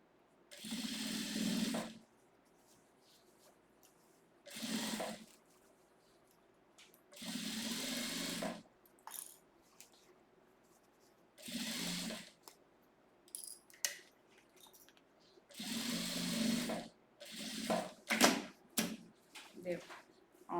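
A domestic sewing machine stitches the side seam of a stiff fabric pencil case in several bursts of a second or two each, separated by pauses, with faint handling noises and light clicks between runs.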